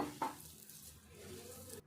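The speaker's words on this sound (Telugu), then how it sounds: "ఇట్లా ఒక ముద్దలాగా కలుపుకోవాలి ఇది అటుకులు" Soaked flattened rice is being squished and stirred into a soft dough by hand in a bowl, a soft wet mixing sound, close and faint, with no talking.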